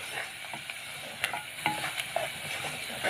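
Spices sizzle and crackle in hot oil in a pan for koshari while being stirred, with soft scraping strokes and small pops at close range, no voices.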